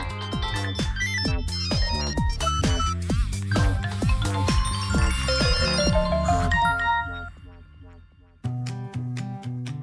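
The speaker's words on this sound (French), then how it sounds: "le quotidien se couvre de bruits de notifications." Several phone ringtones and notification chimes overlap as rhythmic melodic tones, loud and continuous, then briefly stop before a new ringtone pattern starts up.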